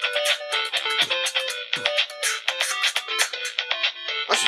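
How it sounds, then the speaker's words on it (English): Ringtone five on a Binatone Brick mobile phone plays a loud, bright electronic melody of rapid repeating beeping notes that runs steadily from start to finish. "ring tone five."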